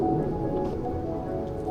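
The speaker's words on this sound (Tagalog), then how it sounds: "Ambon lang kasi." Light drizzle falls at Universal Studios Singapore, a soft, even hiss of rain on surfaces that stays steady and close, with no talking over it.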